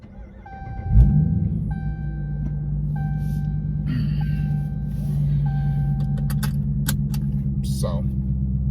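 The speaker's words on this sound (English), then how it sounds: "So I'm gonna go ahead and start up the vehicle and I'll let you guys get a good listen." A 2017 Dodge Charger Daytona with a Dynomax Race Bullets exhaust cranks and fires up with a loud roaring flare, then settles into a deep, steady idle rumble close by, with dashboard chimes sounding over it.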